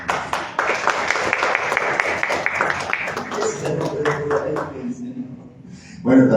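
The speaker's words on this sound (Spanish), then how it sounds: "un aplauso para Laura, por favor" An audience applauds the poet Laura at a poetry reading, with dense clapping for about three seconds mixed with voices before it thins out and speech takes over.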